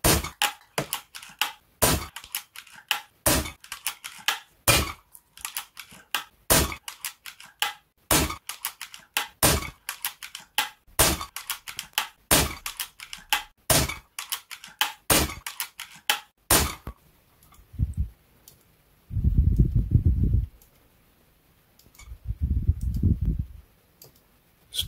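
A Zbroia Kozak Ukrainian bullpup rifle firing a magazine outdoors, sharp shots in a steady rapid series for most of the stretch, then a pause with a few dull bumps and handling noises.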